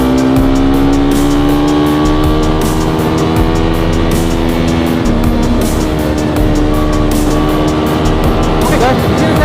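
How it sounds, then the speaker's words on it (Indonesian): A motorcycle ridden at full throttle on the road from Tulehu to Liang harbour near Ambon, its engine loud and close with a rising, straining tone and steady wind rush throughout. "ini saya gaspol"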